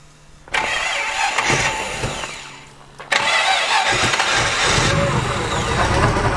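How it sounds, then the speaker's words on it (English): A T-Bucket hot rod engine with three carburetors cranks and fires into a loud idle, stumbles and fades briefly, then restarts and settles into a steady, rumbling run close by. "Let's start it up for you. Put the fuel pump on, put the key on, make sure it's in neutral,"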